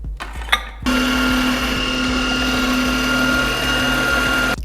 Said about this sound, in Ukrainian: але ми ускладнимо завдання і наріжемо на ній сиру моркву